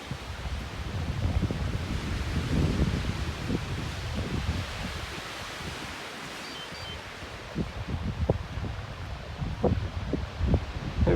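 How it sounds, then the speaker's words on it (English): Strong wind gusts through a mountain forest in New Hampshire's White Mountains, making a continuous broadband roar with rustling trees that swells and eases, plus scattered sharp knocks and creaks, and no voices. "Wind is just whipping through here."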